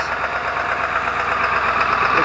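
A steady, loud diesel engine of a 2002 Ford F250 7.3 idles with a constant rumble and faint knocking texture after a long cold start, with an exhaust leak, running alone without voices.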